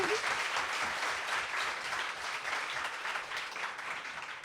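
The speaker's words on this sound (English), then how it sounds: "So let's round of applause for Lisa." Audience at a bookstore book talk applauding warmly, a full, continuous burst of clapping from the crowd that slowly tapers.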